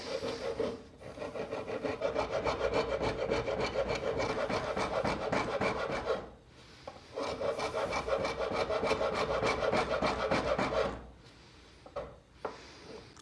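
Wood rasp carving a diamond pattern into wood, rapid rhythmic rasping strokes in long steady runs separated by brief pauses, close and alone without talk.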